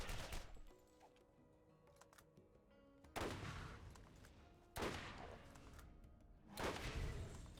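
Pistol gunfire in Borderlands aimed at a skag: three sharp, loud shots at irregular intervals, each with a brief ringing tail, over a busy game soundscape.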